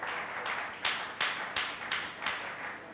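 A church congregation claps in a steady rhythm, about seven sharp, evenly spaced bursts of applause at moderate volume with a soft room echo.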